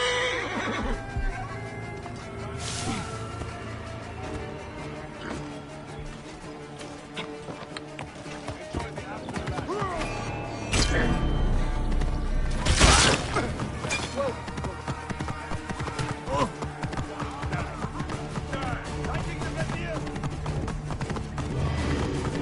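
Horse neighs and hoofbeats from the Assassin's Creed Origins video game, set among dense, busy game audio with a loud burst near the middle and a steady layered backdrop throughout.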